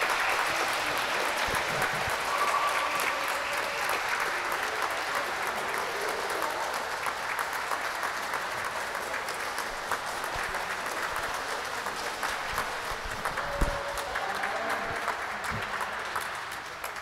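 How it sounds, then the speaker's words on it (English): Swimmers at a remote high school swim meet clap steadily for their teammates, producing a sustained patter of applause with a few louder claps standing out from the mix, heard in an echoing pool space. "So you'll hear a lot more clapping"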